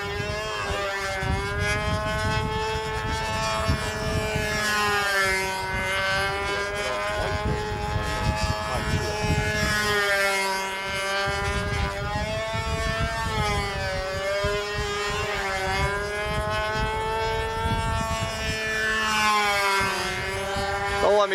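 A control-line model airplane circles at a Brodak fly-in, its high, buzzing engine whine rising and falling steadily as it loops around the pilot. The sound is continuous and fairly loud.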